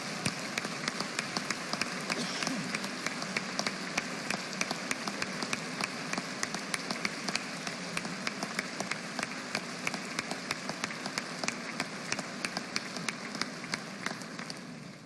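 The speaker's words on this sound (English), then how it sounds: "Would you please join me in giving Ms. Fluke and all our Missouri educators a round of applause?" An audience at a state address applauds Missouri educators with sustained, even clapping, dense and steady throughout, heard from within a large hall.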